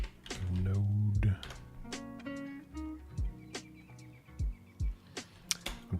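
Typing on a computer keyboard while coding in Godot, with scattered light key clicks and a few brief bursts of taps alongside some talking.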